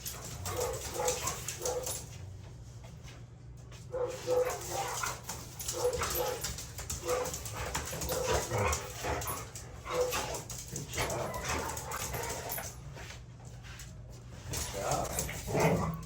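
Adult rescue dogs meeting for the first time, whimpering, yipping and giving occasional barks over about sixteen seconds, close by, mixed with steady background noise and some people talking.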